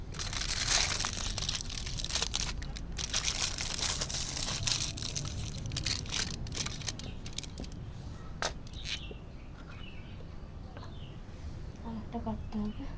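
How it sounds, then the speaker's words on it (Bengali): Aluminium foil crinkles and rustles steadily while being laid over ice cream moulds for a natural watermelon ice cream, close and continuous, with a voice talking throughout. "এবার এগুলোর মধ্যে অ্যালুমিনিয়াম ফয়েল দিয়ে দেবো।"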